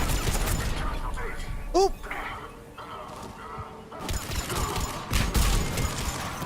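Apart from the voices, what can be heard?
gunfire in the video game Mass Effect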